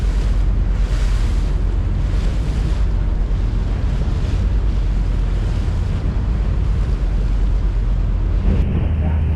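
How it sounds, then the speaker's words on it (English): A fishing boat heads out through open Atlantic-style ocean water after leaving an inlet, its steady engine rumble mixed with rushing wind buffeting the microphone and washing waves, loud and continuous throughout. "We are leaving the inlet, and now we are in the open ocean."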